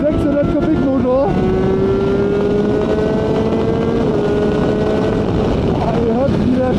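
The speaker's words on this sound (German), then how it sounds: "Das ist übrigens ein 600 Kubik Motor." A 600 cc engine screams at high revs, its loud whine climbing steadily in pitch, briefly dipping at gear changes near the start and end and rising again, heard up close inside the moving vehicle.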